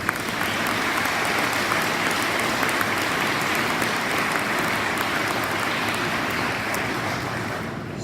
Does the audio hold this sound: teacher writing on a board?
no